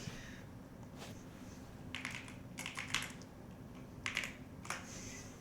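Keys clatter on a computer keyboard in scattered bursts of quick taps, separated by pauses, over a low steady hum. The keyboard had not been responding just before this.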